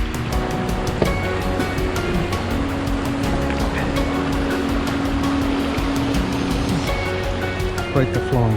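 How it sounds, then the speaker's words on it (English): Stream water flowing steadily along the Bruce Trail in the Iroquoia section, a broad continuous rushing wash that stays loud and even throughout, with a faint voice briefly audible near the end. "Quite the flowing stream."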